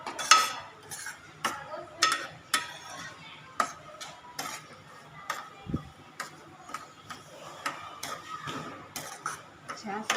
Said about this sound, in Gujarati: હવે આપણે આમાં રવો ઉમેરીશું। અને આપણે ધીમી આંચ પર સાંતળી લઈશું।